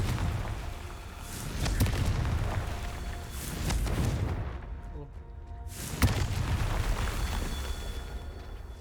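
Deep, booming blasts from the Confringo blasting spell in Hogwarts Legacy, a few heavy rumbling explosions with a sharp impact near the end, mixed with game sound and some talk.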